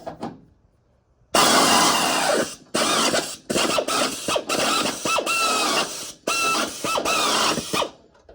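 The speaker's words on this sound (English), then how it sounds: "I drilled some of the spot welds out myself, run them with a pilot bit" A pilot bit drills out spot welds on a 1965 Mustang body, a loud, close grinding whine running in several bursts separated by short pauses, with no talk.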